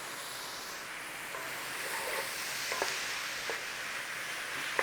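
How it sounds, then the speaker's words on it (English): Sausage and mushrooms sizzling in a pan as they are stirred, a soft, steady frying hiss broken by a few light scrapes and clinks of the utensil. "Just keep giving them a little stir around."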